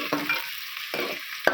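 Onions, chilies and curry leaves sautéing in a pan for Kathiyawadi-style tempered chickpeas, a steady close sizzle broken by a few spoon-stirring scrapes, with a sharper clink near the end.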